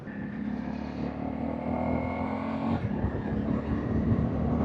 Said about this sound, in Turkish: Bazen arabalar beni fark etsin diye gaz veriyorum. Ses yapıyorum.